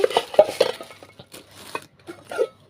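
Metal cooking pots and lids for boiling milk clink and clatter close by in a short run of handling knocks and scrapes, with no talking.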